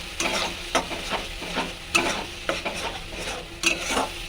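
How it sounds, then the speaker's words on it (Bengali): Spices being stir-fried in a pan with no potatoes or vegetables added, a steady close sizzle punctuated by regular scraping strokes of a spoon against the pan, with no voices. "এটা কিছুক্ষণ ভালো করে কষাবো আজকে কোনো আলু সবজি কিছুই দেবো না শুধু কষা কষা করবো মশলা দিয়ে"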